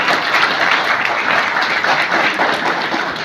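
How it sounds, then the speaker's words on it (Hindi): A crowd at a Vishwakarma Jayanti celebration breaks into loud, sustained applause, thick overlapping clapping close by that carries on without pause. "इनके लिए जोरदार तालियां दो।"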